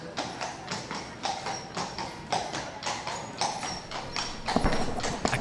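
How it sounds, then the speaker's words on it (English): Hooves of six horses drawing a carriage clip-clop in a steady, overlapping rhythm of sharp taps on a hard road, close and continuous throughout. "A carriage went past, drawn by 6 of the most beautiful horses."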